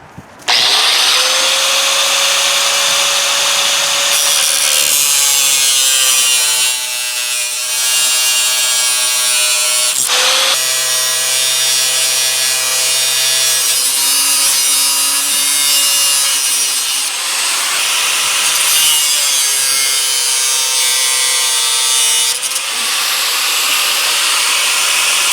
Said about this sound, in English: I think the easiest way to cut this is with this angle grinder